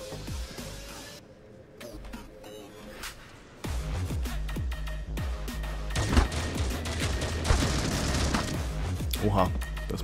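Shotgun and AK47 fire in the mobile shooter Critical Ops, with sharp shots, booms and bursts that grow denser and louder in the second half, heard over a talking player and game noise.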